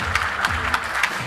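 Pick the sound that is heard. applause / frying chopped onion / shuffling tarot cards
applause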